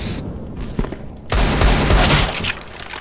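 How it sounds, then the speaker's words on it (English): AK rifle gunfire in a video game: a loud dense burst of rapid shots after a short quieter stretch with a couple of isolated reports, then fading back down. "And it was like AK shots coming out of it."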